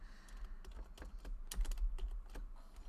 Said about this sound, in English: I'm typing in that address now, Howie.